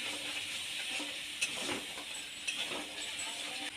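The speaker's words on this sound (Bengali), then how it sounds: "অল্প কষিয়ে নেব।" Food being stirred and sautéed in a pan for a ridge gourd dal, giving a steady low sizzle with a few soft scraping strokes from the spoon.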